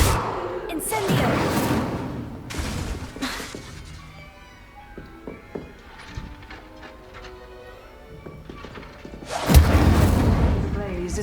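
The Incendio fire spell bursts into a blaze in Hogwarts Legacy: loud, roaring bursts of flame with crackling crashes, separated by a quieter stretch of scattered small impacts, then a final strong surge.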